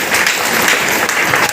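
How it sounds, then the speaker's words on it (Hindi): A meeting crowd claps hard, a loud, dense wash of applause that holds steadily through the short burst. "सत्ता बाजी के लिए जोरदार ताली होना चाहिए"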